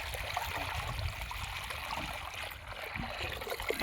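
Water rushes through an irrigation canal filled to the brim on farmland, giving a steady, fairly faint gurgling flow with no voices over it.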